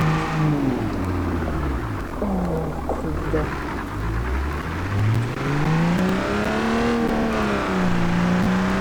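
A car in the BeamNG.drive video game, with an engine swap mentioned, revs and drives continuously, its engine pitch sweeping up and down through gear changes, loud throughout while someone talks briefly over it.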